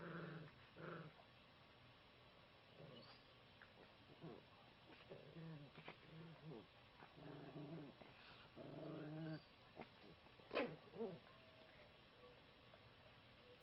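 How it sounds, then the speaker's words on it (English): A dog outdoors at night gives a series of quiet growls, yips and short barks in scattered bursts, heard at some distance against a near-silent background. "the man's dog starts barking loudly at it,"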